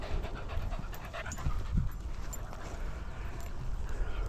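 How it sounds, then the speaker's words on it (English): A dog on a walk pants rapidly and steadily, close to the microphone, with faint footsteps and outdoor rumble beneath. "oh, here's another doggy."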